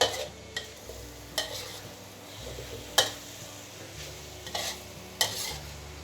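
Minced beef stir-fried with tree basil leaves and chili in a pan, a soft sizzle broken by several sharp spatula scrapes and clinks at irregular intervals, close by.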